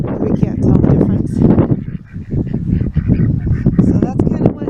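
A cluster of ducks honk and quack repeatedly close by in a fenced barnyard, with a person talking over the noisy calls.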